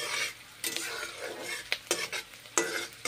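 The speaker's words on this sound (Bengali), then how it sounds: "ভেজে নিচ্ছি পেঁয়াজগুলো" Onions frying in a pan, a continuous close sizzle broken by sharp scraping and clinking stir strokes about every half second to a second.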